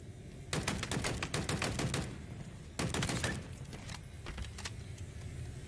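Rapid machine-gun bursts in Halo Infinite, a Last Spartan Standing match: two long rattling volleys of dense shots with a gap between them, then a few scattered shots, loud and close.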